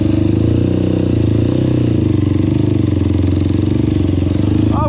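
A 2005 Honda TRX450R quad's engine idling as it warms up, a loud steady close-up thumping idle with rapid regular pulses throughout, no voices.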